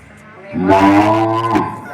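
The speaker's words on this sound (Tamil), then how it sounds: "காலையில ஊசி போடுற மாடு கத்து" Close by in a village, a cow that has just been given an injection lets out one long, loud, low moo lasting over a second, with faint background noise around it.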